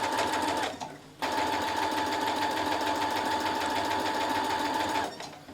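A sewing machine stitches a piece of spare fabric, running in a loud, fast, even mechanical whir close by, pausing briefly near the start and slowing to a stop at the end.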